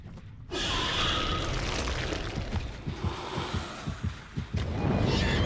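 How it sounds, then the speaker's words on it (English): A thumping heartbeat from the Dead by Daylight video game, a steady run of low pulses repeating beneath a dense wash of game ambience and noise for several seconds. "And I do like the heartbeat quite a bit."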